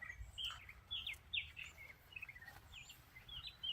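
Several birds chirp and tweet in short, bright bursts, fairly distant, over quiet outdoor background.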